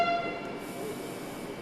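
A Nagpur metro train opens with a brief tonal horn-like whine that fades into steady rolling hiss and rumble.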